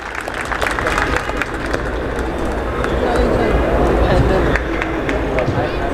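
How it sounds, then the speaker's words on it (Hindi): A crowd at an Urdu poetry gathering claps loudly and continuously in welcome of a speaker, a dense, sustained wash of applause filling the whole stretch at steady volume. "जोरदार तालियों से उनका इस्तकबाल कीजिए आप लोग"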